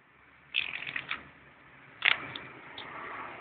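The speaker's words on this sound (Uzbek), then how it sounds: "Uchta kartani uch tomonga qo'ydik-a? Ha. Aralashtirdik." Playing cards being shuffled during a card trick, heard as two short, crisp riffling bursts about a second and a half apart, close and fairly quiet.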